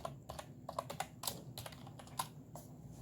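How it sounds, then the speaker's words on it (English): Quick, light clicking of a computer keyboard as someone types, an irregular patter of keystrokes close by with no voices. "I typed hello world."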